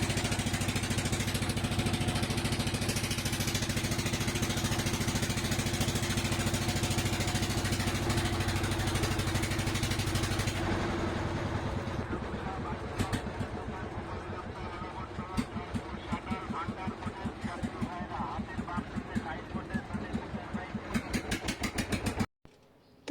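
A trawler boat engine runs steadily at Rupsa ferry ghat on a river crossing, a continuous low mechanical drone that loosens into a choppier, pulsing idle partway through before cutting off near the end.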